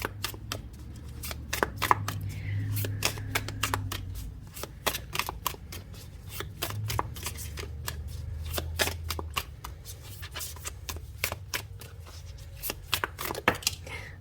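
Personal Power Oracle cards being shuffled by hand, giving a rapid series of sharp, close riffling snaps and flutters in repeated bursts, fairly quiet and heard with no talking.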